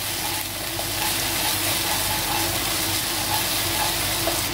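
Garlic-ginger paste sizzles steadily as it fries and is stirred with onions in a pan for a guar bean sabzi, a constant, fairly loud hiss with no pauses and no voices.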